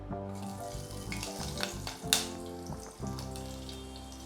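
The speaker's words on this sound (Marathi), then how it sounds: "तूप कडकडीत गरम झाल्यानंतर आता याच्यामध्ये आपण दोन हिरव्या मिरच्या घालूया" Green chillies frying in hot ghee in a pan, a steady soft sizzle and crackle with a sharper pop partway through, fairly faint and with no voices.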